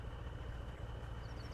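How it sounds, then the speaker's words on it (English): Vehicle engine idling at a gas station, a steady low rumble with an even, continuous drone and no voices. "let me get you some engine idling noises while we do this"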